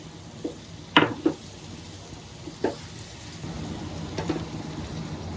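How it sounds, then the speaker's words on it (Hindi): Whisked yogurt hitting hot vegetables in a pan gives a steady low sizzle, with a few sharp clinks and scrapes of a utensil near the start and middle, and no talking. "ये जो 50 ग्राम दही है जिसको मैंने अच्छी तरह से फेंट लिया था और इसे सब्जी में डाल दिया।"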